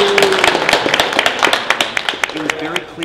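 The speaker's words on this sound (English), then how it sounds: "let's give this group a round of applause" A group at a community outreach meeting for the Metro Crenshaw Corridor gives a round of applause, scattered sharp claps close by with a voice briefly audible underneath.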